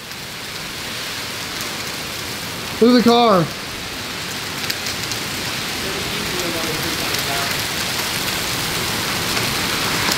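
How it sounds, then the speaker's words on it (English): Heavy rain and hail pour down steadily in a violent storm over downtown Milwaukee, a dense continuous hiss throughout, with someone speaking briefly and a car passing through the downpour. "and there's the hail. It's not golf ball yet."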